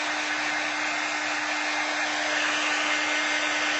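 A hair dryer blows steadily over an art journal page, giving a constant close whirring rush with a faint motor hum and no change in level or voices.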